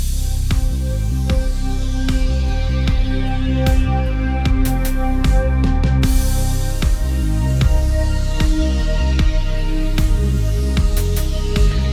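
A resonant Korg Triton synth pad preset plays alone and steadily, with fluttery articulations and regular percussive clicks moving through the background.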